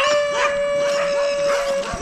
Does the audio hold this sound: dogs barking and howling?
yes